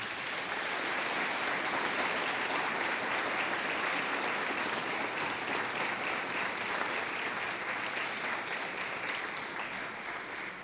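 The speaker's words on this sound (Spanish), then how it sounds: "vaya ese aplauso para nuestro obispo" Steady, dense applause from a church congregation at a feast-day Mass for the Virgin of Fátima in the parish of Nuestra Señora de Fátima, honoring the bishop; it stays full and even for about ten seconds before easing slightly.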